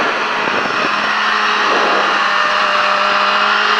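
A motorcycle on a track training course holds a loud, sustained engine note close by, its pitch climbing steadily as it accelerates out of a cone.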